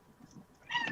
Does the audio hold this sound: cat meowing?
yes